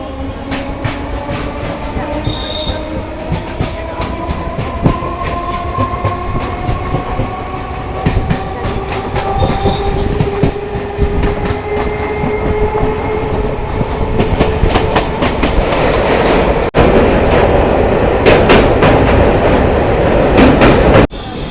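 A moving train on the Bardhaman to Howrah chord line near Dakshineswar, with steady rail rumble and clickety-clack that runs continuously and fairly loud, plus rising tonal whines from the motors as it gathers speed.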